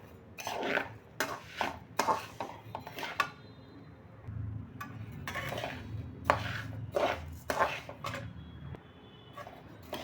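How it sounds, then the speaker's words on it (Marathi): Rice grains dry-roasting in a pan for chakli flour, stirred with a spatula in repeated scraping, rattling bursts over a low steady background, close and fairly loud, with no talk. "आता हे तांदूळ आपल्याला चांगला कलर चेंज होईपर्यंत भाजून घ्यायचे आहेत"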